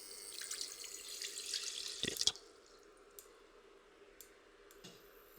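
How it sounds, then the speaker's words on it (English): Water runs from a tap into a pan in a steady splashing stream for about two seconds, then stops, leaving a few faint drips and clicks in a quiet kitchen. "And you're going to add to this 500 ml of water."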